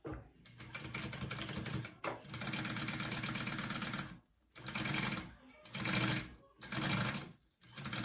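A sewing machine bastes a seam with an eighth-inch allowance on a bag, its rapid needle chatter running in several long, fairly loud bursts separated by short pauses.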